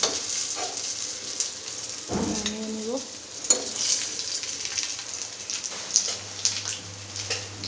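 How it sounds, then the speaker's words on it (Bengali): Rui fish fillets crackle and sizzle as they fry crisp in hot oil, a steady close hiss broken by scraping stirs and a brief low clunk partway through, with no one talking. "ভালো করে ভেজে নিলাম, একদম মুচমুচ করে ভেজে নিলাম তেল দিয়ে"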